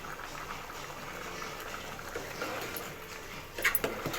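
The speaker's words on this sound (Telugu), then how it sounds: "కొంచెం ఉడకనివ్వాలి." Chicken gravy with added water simmers in a pan, giving a soft, steady bubbling, then a few brief louder clinks or splashes near the end.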